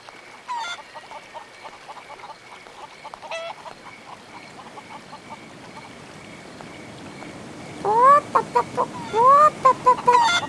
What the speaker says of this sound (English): the chicken is actually coming to the egg